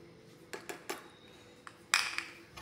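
A metal spoon clinks against a glass while stirring two spoonfuls of wheatgrass powder into warm water, a few sharp taps spaced irregularly, then a louder cluster of clinks near the end, close and alone.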